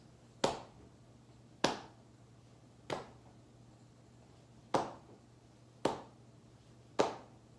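Six sharp taps land at a slow, unhurried pace, each one a crisp knock with a short decay, separated by long gaps over faint background hum.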